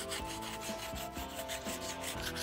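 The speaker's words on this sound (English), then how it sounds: "Rasping the inside of that, only about this far in." Repeated rasping strokes scrape inside a graphite fishing rod part, a rhythmic series of dry rubbing scratches at close range, with no voices.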